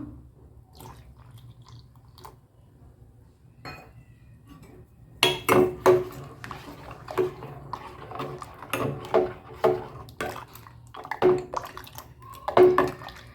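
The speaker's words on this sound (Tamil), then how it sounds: "இப்போ இந்த ஸ்டேஜில் கொஞ்சம் பால் ஊற்றிடலாம்." Milk is poured into a pot of wheat porridge and stirred, making irregular wet splashes, drips and spoon clinks against the pot, close and alone.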